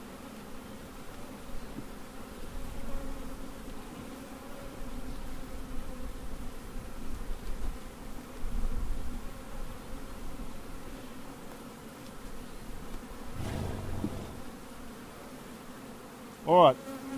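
Honey bees hum in a dense, continuous drone around an open beehive box during queen rearing, steady and close throughout, with a brief knock near the end.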